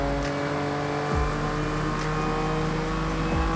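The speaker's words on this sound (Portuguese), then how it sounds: "Land Rover Velar." Land Rover Velar driving in Forza Horizon 5, a steady engine drone with audible gear shifts and pitch drops between pulls, constant and fairly loud with no talk.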